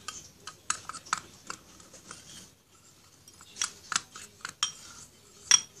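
Homemade hamster treat ingredients being mixed in a bowl, a quick series of light clicking, scraping taps of utensil against the bowl, close and fairly quiet, with a short pause midway.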